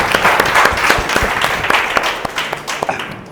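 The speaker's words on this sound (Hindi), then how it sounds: "तो एक बार ताली बजा सकते ना" An indoor audience at a direct selling marketing meeting breaks into applause, a loud, dense wash of many hands clapping together that keeps going for a few seconds, then begins to ease off.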